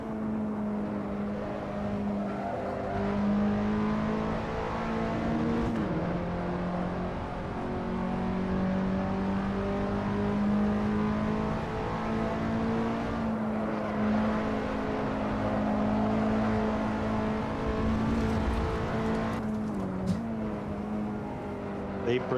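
Race car engine in a racing video game at Roebling: a steady, loud engine drone runs throughout, with brief dips in pitch where the driver brakes late and shifts gears.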